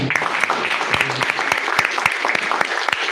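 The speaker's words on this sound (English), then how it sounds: "A round of applause again." A room of people applauding finalists at a live-streamed event, brisk clapping with sharp individual claps standing out over the steady patter, loud and close throughout.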